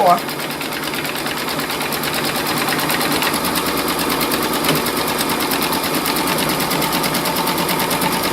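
An embroidery machine stitches cotton fabric held in its hoop for a quilt block, a fast, even mechanical whirring chatter that carries on steadily throughout, close and moderately loud.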